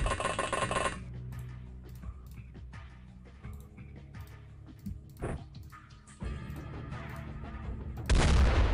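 Gunfire barrage in The X-COM Files game: a loud burst of shots opens, then scattered impacts and distant booms under a low rumble, with a sharp crack midway and another heavy volley at the end.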